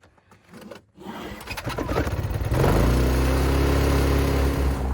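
A small generator engine is started in freezing cold: a few rough cranking sputters, then the motor catches and settles into a loud, steady running drone, close by with no talking.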